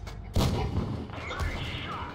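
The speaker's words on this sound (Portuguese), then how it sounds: "E aí vocês estão vendo o Baton atirando na minha lateral" A heavy tank cannon blast strikes the side armour of a Chieftain Mk. 6 in World of Tanks Blitz, followed by a second, softer impact boom. Faint voices sit in the background.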